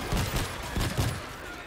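Automatic gun turret firing in the zombie shooter World War Z, a few quick rattling bursts of fire over a noisy mix of other game sound, fairly brief.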